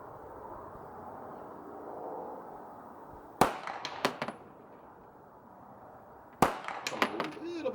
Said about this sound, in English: I'm going to shoot in the exact same place each time.